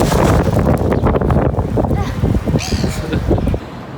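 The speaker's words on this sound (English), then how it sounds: "Super windy days." Strong gusts buffet the microphone on a windy day outdoors in Auckland, loud low rumbling bursts that ease off near the end, with a voice speaking over them.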